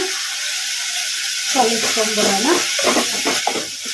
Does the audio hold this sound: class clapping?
no